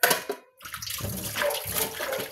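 Water runs from a tap in a bathroom where a Persian cat and other cats drink, a close splashing hiss that breaks off briefly and then continues.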